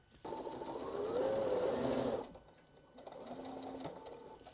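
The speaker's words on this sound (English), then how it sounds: "sewing your seam." A sewing machine stitches a seam on a homemade pet bed, running in a loud steady whir, easing off briefly, then resuming at a softer, even hum.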